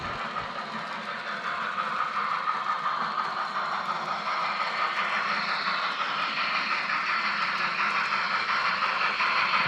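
An N scale model train runs around a layout, giving a steady, continuous mechanical whir and faint rhythmic clatter at an even level throughout, with no talk.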